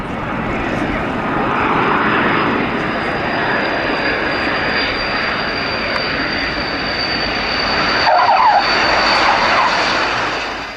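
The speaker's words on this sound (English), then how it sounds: "this is the same aircraft performing the same approach, but pulling up earlier" A jet aircraft roars steadily overhead while flying a steep approach at the Berlin Air Show, a loud sustained engine drone that swells slightly near the end, with no voices.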